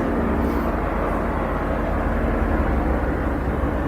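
Steady road traffic rumble and passing trains heard outside during a monk's question-and-answer talk, a continuous, fairly loud low-pitched roar with no break and no speech.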